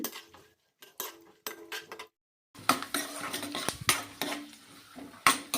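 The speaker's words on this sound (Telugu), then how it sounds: "నెయ్యి కాస్త వేడెక్కిన తర్వాత ఇందులోకి సన్నగా కట్ చేసి పెట్టుకున్న బాదం పప్పులు జీడిపప్పు ద్రాక్ష వేసి దూరగా వేయించుకోవాలి" Chopped almonds, cashews and raisins stirred in hot ghee in a kadai, with scraping spatula strokes and metallic clinks against the pan in short bursts, the faint sizzle mostly hidden beneath the stirring.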